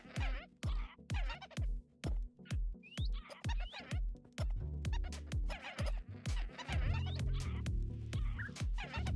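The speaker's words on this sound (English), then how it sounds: "I love the sound of the parrots." Rapid, repeated squawks from parrots in the Minecraft video game come in quick bursts, loud and close, with dense overlapping calls in the second half.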